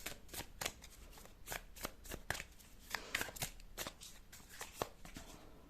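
Tarot cards being shuffled by hand, a steady run of crisp riffling slaps and flutters, close and quiet, with no talking over it.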